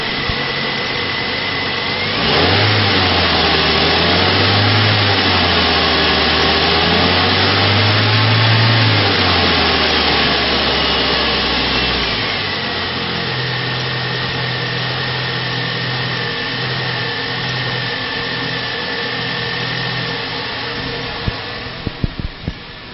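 Engine of a 2006 Ford Ranger with a 2.3-liter four-cylinder and manual transmission runs at a close, loud, steady drone, rising and falling in pitch early on, then settling into an even idle with a few knocks near the end.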